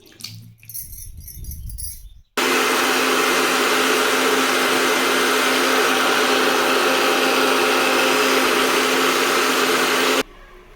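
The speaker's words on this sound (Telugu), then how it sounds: "టమాటా ఉల్లిపాయ అయితే ముద్ద చేసేసుకున్నాను మిక్సీలో వేసి" A mixer grinder grinding tomato and onion into a paste whirs loudly and steadily for about eight seconds, starting abruptly after a brief quieter moment and cutting off sharply at the end.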